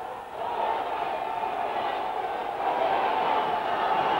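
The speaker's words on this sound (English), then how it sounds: "Listen to the crowd. They're going wild." A 1973 World Championship Wrestling arena crowd roars with sustained, steady noise that swells slightly toward the end, a dense wash of distant voices filling the hall.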